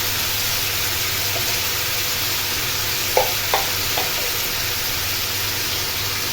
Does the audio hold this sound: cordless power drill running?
no